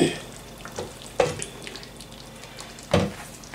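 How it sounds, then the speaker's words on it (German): Herbs, chives among them, stirred into a minced meat and vegetable sauce in a pan, with a soft steady simmering hiss and three distinct spoon scrapes against the pan. "Einmal umrühren."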